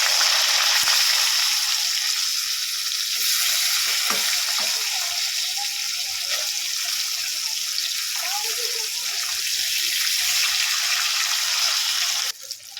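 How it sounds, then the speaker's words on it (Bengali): Fish pieces shallow-frying in hot oil as they are turned over, a steady broadband sizzle running throughout with a few faint clinks and scrapes, ending in a brief pause. "এভাবে উল্টে পাল্টে লাল লাল করে ভেজে নেব"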